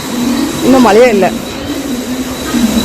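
Commuter train at Kurla railway station in Mumbai, a steady rail rumble with a hiss running throughout while someone talks briefly over it in the middle.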